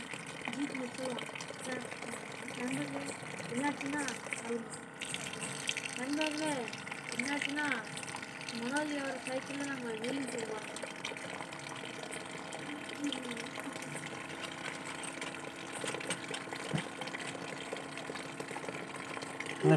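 A small 5 V water pump runs during a test, with a steady low motor hum and trickling water, while someone talks over it throughout.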